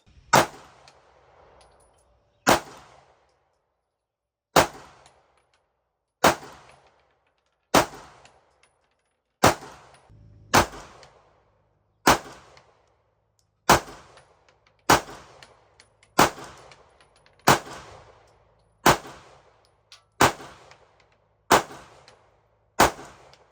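Sharp gunshots from a Sig P365 pistol fitted with a Radian Ramjet compensator, about thirteen single reports fired at a steady, slightly quickening pace, each loud and cracking with a short ringing tail, no talking.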